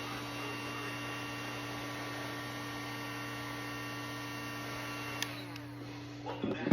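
A heat gun warms material before cutting, a steady electric blowing hum with a whooshing airflow, close and constant, ending with a few handling clunks.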